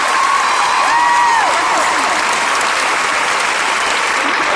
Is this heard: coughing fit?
no